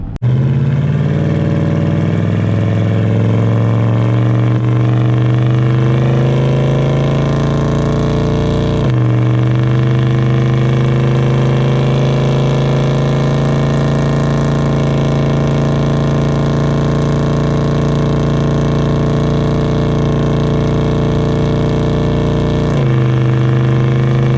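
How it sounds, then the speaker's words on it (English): A loud, droning truck exhaust rumbles continuously while towing, with a 3400 stall torque converter, pitch slowly rising between two brief gear-change dips, close up with no voices. "most of the sound clips are going to be from the exhaust"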